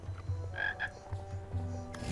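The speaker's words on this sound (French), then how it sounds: "Alors, on va donner le crapaud à notre ami Oui, Chester." A toad croaks in the King's Quest video game, giving several low, rhythmic croaks over a faint game background, with no talking.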